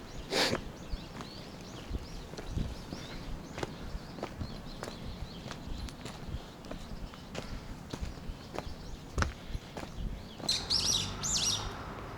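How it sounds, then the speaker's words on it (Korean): Birds chirp and tweet around a tree-lined Gwangju neighbourhood in Yangnim-dong, light calls scattered throughout over footsteps on pavement, with a burst of brighter twittering near the end. "새들이 이렇게, 역시 새들은 좋은 것이 어딘지 알아."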